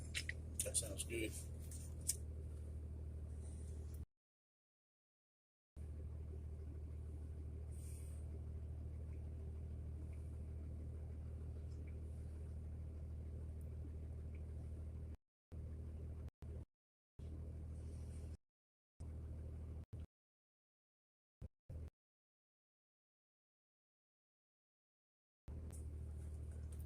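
A storm chasing truck's engine idles with a steady low rumble that cuts out in stretches and returns in short bursts, with brief sounds near the start.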